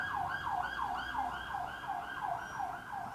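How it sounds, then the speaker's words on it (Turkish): An ambulance siren wails in a steady repeating up-and-down sweep, moderately distant, with road traffic noise underneath. "ambulans geçiyor."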